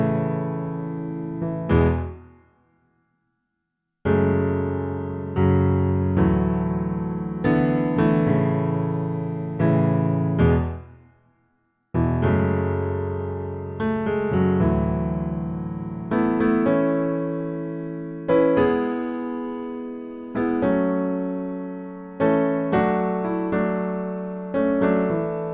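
A piano plays the first verse of a song as slow, sustained chords with rich harmonics, each ringing out and fading before the next, with a couple of full silences between phrases.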